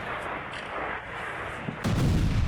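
Explosions from drone attacks in Zaporizhzhia: a muffled rumble of distant blasts gives way to a sudden, heavier booming impact near the end.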